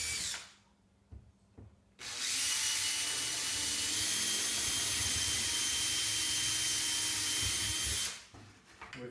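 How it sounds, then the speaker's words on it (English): A power drill bores screw holes through a jig while building a pigeon hole cabinet. After some quiet handling and knocks, a loud, steady high whine runs for about six seconds, then cuts off into more close handling. "you drill where you want to put the holes"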